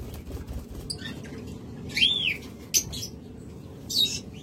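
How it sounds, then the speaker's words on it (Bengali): Lutino opaline red-eye lovebirds giving sharp high chirps and short calls, a few distinct bursts over a low rumbling background. "এগুলো কিন্তু লুটিনো অপালাইন রেড আই পাখি"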